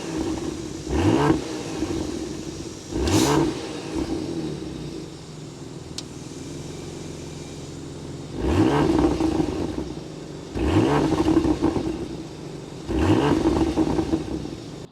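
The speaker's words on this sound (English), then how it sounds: "We need to go inside, start it up, so you can hear that exhaust note." A 2025 Porsche Panamera's engine revs in several separate bursts, with loud exhaust swells at about 1, 3, 8.5, 11 and 13.5 seconds and a steady idle between them. No voices are heard.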